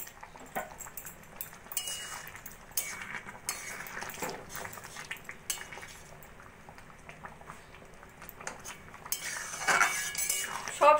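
A pot lid comes off simmering sambar with vegetables, followed by scattered metal clinks and scrapes of utensils over a faint bubbling, close and fairly quiet, with no talk.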